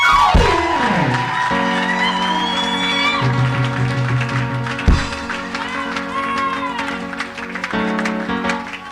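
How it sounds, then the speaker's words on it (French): A church congregation cheers for Jesus Christ, with loud crowd shouting and whooping over sustained organ-like music chords, and a sharp accent midway. "Acclamez pour Jésus-Christ."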